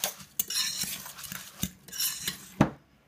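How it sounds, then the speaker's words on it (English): A spoon stirs muesli mixed with blended banana, apple juice and maple syrup in a bowl, giving a run of scraping, clinking strokes with a few sharper knocks, fairly close and with no talking. "then we mix in the blended banana, apple juice and maple syrup and just give it a little bit of a stir"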